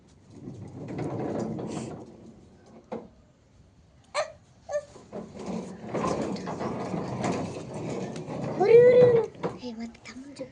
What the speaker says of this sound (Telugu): చూడండి మా విలేజ్లో బురక పిట్టలు దొరికినాయి